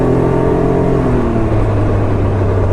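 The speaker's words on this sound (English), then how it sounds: "you can hear the engine is not like revving, it's just the clutch is doing its job" A 2019 Can-Am Ryker 900 three-wheeler pulls away as its clutch engages, the engine note rising in a steady, loud drone with no voices over it.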